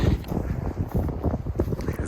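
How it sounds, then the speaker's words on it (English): Wind gusting across open prairie hills on a hiking trail, buffeting the microphone in a steady low roar that rises and falls in irregular surges throughout. "It's windy."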